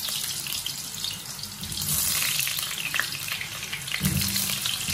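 Potatoes frying in hot oil in a pan for pork afritada: a loud, steady hiss and crackle of sizzling close by, with no talk.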